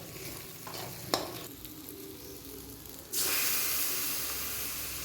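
Onions and green chilli fry in a pan for meat curry, a soft stirring scrape and brief clatter giving way to a loud, steady hiss of sizzling oil that fills the second half.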